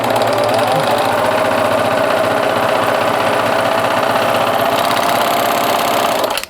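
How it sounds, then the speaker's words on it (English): A serger stitches steadily along the edge of a fabric face mask with a loud, continuous mechanical whir and rapid needle rattle, running unbroken for several seconds before stopping abruptly. "what we're going to do is run the serger on this edge"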